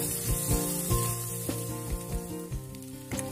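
Onions sauté in hot oil with shrimp paste added, giving a steady close sizzle with soft stirring scrapes and clinks of a utensil against the pan, under a faint background hum.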